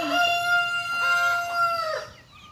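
Indian chickens and a rooster at a farm, with a loud, close crow that rises and then trails off amid clucking.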